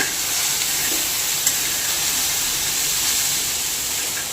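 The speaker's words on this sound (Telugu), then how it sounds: "కరేపాకు వేసుకుని రెండు మూడు నిమిషాలు ఇలా ఆయిల్లో ఫ్రై అయ్యాక" Curry leaves fry in hot oil with a steady, loud, close sizzle that hisses evenly throughout, without pause or voices.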